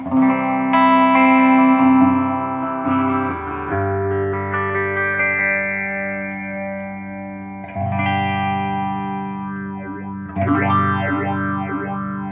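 Sustained electric guitar chords ring out through a Spaceman Explorer phaser pedal on a very slow sine wave, with a slow, sweeping swirl, notes changing every few seconds and a few plucked tones near the end.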